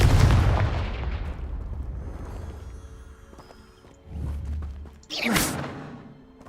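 In the video game Hogwarts Legacy, the Confringo fire spell is cast. A heavy booming blast opens and slowly decays, then a whooshing burst and fiery crackle follow a few seconds later, both loud and close, with no voices.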